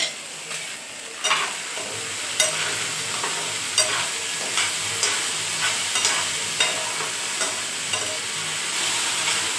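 Wet moong beans are dry-roasted in a pan, with a soft continuous sizzle and a regular run of scraping strokes from stirring, repeated roughly every second, heard close.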